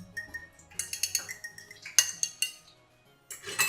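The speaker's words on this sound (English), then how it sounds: "Now I'm just gonna take a fork and just whisk it all together." A fork whisks beaten egg in a bowl with quick, close clinking taps of metal on the bowl in a fast, uneven rhythm, alone with no voice.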